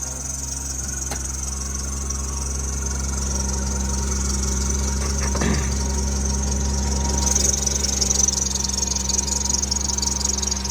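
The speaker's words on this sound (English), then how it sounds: "I don't know how the inspectors always miss the squeaky belts." A used minivan bought at a dealer auction idles steadily, its engine a constant low drone with a thin high squeal from worn belts running throughout, fairly close and with no talk.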